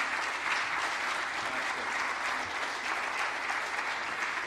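An audience at a gala concert applauds a duo, steady full-room clapping that holds at an even level from start to finish.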